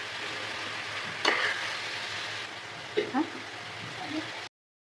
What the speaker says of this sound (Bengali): এটাকে ভালোভাবে আমি কষিয়ে নেব দেখুন তেল আলাদা হয়ে আসছে মশলা থেকে